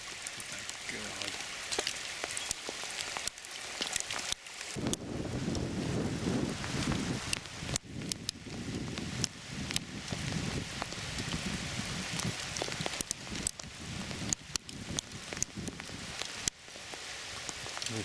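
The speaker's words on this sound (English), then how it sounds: "Bloody great hailstones." Hailstones fall on a northern river while fishing, with a dense irregular patter of sharp impacts mixed with wind buffeting the microphone. A voice is briefly heard over the noise.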